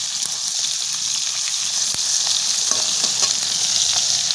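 Bata fish sizzling steadily in hot oil in a kadai, a dense, continuous crackle with scattered sharp pops throughout and no voices.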